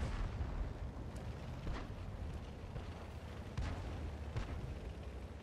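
Distant artillery booms in a World of Tanks battle, with several dull thuds spaced irregularly over a constant low rumble of engine and battlefield noise, faint overall and without talking.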